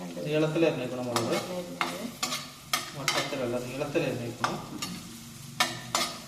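Whole cloves, cinnamon, mace and chopped chillies sauté in a pan, with a soft steady sizzle broken by repeated scraping stirs of a spoon, while a person talks over the cooking.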